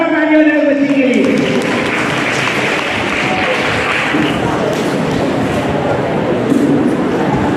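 An audience at an inter-school quiz competition claps for a girl, a dense burst of applause that swells and carries on steadily, loud and fairly close after a brief voice at the start.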